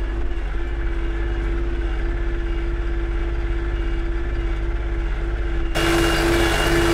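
An MTZ-320.4 M Belarus tractor engine runs at a fixed hand-throttle setting, a steady mechanical drone with a constant hum, growing harsher and louder near the end.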